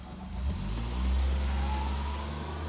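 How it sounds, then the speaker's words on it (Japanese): A car passing by outside on a cold morning, its engine a low rumble swelling to a peak and slowly fading, moderately close and heard alone. "あっちゃん、車気にしたな。"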